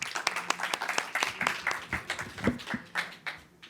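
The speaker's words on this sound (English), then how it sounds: "Please give them a round of applause." Light applause from a small audience at a telecom pitch event, a few seconds of uneven, sparse handclaps with slight background murmur.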